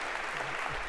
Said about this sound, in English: we give you a round of applause for having done that very well